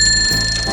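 A bicycle bell rings alone in a quick, bright metallic trill, loud and close, with a brief pause partway before the ringing resumes.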